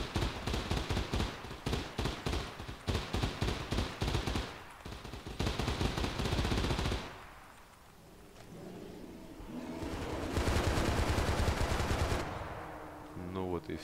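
Rapid automatic gunfire in the video game Stay Out while shooting a bear: dense, loud bursts of shots in quick succession, a brief lull, then another sustained volley.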